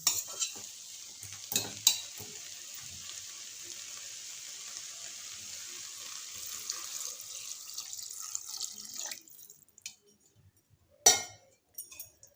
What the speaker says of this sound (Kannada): ಇದನ್ನು ಸ್ವಲ್ಪ ತಿರ್ಗಿಸ್ಕೊಳ್ಳೋಣ